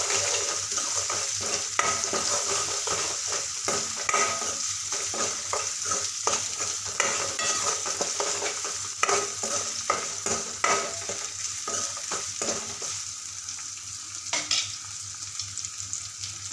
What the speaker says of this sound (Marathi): त्यामध्ये मी टोमॅटो सोडणार आहे टोमॅटोला पण छान असं दोन मिनिटे शिजू देणार आहे